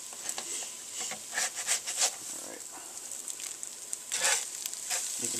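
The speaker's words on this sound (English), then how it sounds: "What you're doing now is spreading it out and letting it cook." Lunch food sizzles steadily in a hot pan as it is spread around, a close, continuous hiss broken by soft scraping and a few louder crackling bursts.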